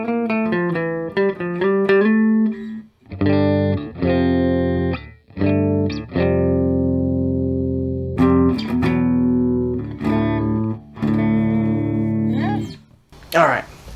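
Electric guitar on a clean channel through a Boss Katana 2x12 combo amp, playing plucked notes and ringing chords loud and close, with sustained tones that decay into brief gaps.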